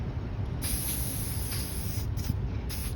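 Shellac sprayed from a can onto a hand-made wood carving, worked into its holes, gives a loud close hiss in three bursts: one long, then two short, with a faint low hum underneath.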